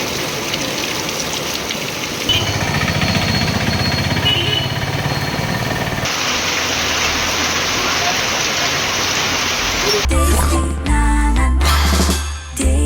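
Heavy rain with hail pounds down in Kovilpatti, Thoothukudi district, a dense, steady roaring wash that holds loud throughout, with harder, rougher clattering in the final seconds.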